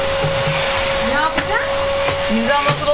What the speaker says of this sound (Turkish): Süpürge sesini duymak istiyorsan açayım annem odamda